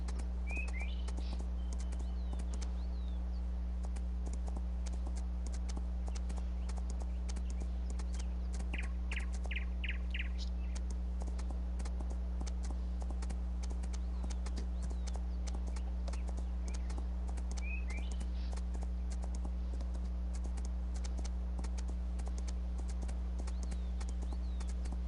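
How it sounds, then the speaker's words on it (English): Horse hooves clip-clop steadily in a video game, faint beneath a constant low hum, with a few brief bird chirps in the background. "Making my horse jump over bushes."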